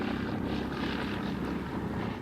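Massed WWII propeller aircraft of the Luftwaffe flying over the English Channel during the Battle of Britain, a steady, dense engine drone that holds at even loudness throughout.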